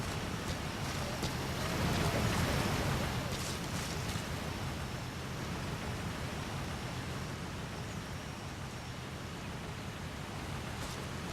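Waterfall in the game Metal Gear Solid V, a dense, continuous rushing roar of falling water, broadband and steady, loud and close with a slight swell early on.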